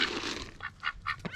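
Farm geese on a homestead honking in winter: several loud, nasal honks in quick irregular succession, close by, over a noisy outdoor background with no talk.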